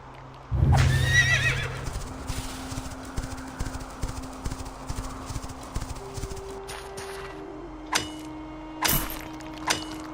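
A summoned horse in the Quinfall video game gives a loud, close whinny, followed by a steady run of clip-clopping hooves with a few more neighs and snorts near the end.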